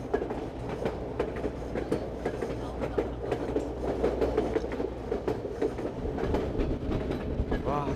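A train on the Yukon Route railway in Canada rolls along with a steady, rhythmic clickety-clack of wheels over rail joints, close and continuous, over a low rumbling drone.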